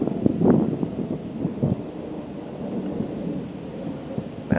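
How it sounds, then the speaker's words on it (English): Gusty wind on a disc golf course roars in low, uneven surges against the microphone, rising and easing over a few seconds, with no voices. "The wind's kicking out here all of a sudden."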